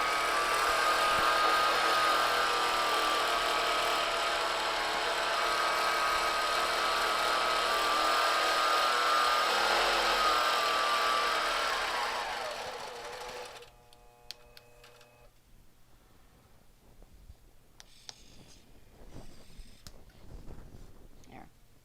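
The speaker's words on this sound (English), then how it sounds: "I'm just going to stitch a line all the way across." A longarm quilting sewing machine stitches a continuous line across a quilt, a loud steady whirring hum for about thirteen seconds before stopping, followed by quieter handling noises and soft background sounds.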